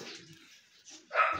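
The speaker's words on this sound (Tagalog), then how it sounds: "Tsaka yung aso niya." A dog at a pigeon breeder's home gives a couple of short barks, a soft one early and a louder sharper bark near the end, with quiet gaps between.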